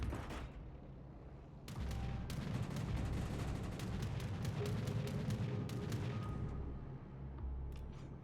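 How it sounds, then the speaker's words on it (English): Battleship main guns fire in the World of Warships Legends naval game, a run of booming, crackling salvos and bursts over a low rumble, loud and dense for most of the stretch. "he's going to get spotted again from firing his guns"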